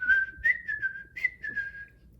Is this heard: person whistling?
yes